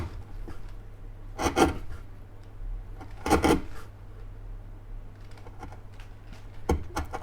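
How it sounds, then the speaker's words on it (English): A sharp chisel pares thin slices from guitar binding, making a few short, crisp scraping cuts spaced well apart, close up against a quiet background hum. "this is where a sharp chisel is important, and we're just going to cut thin slices"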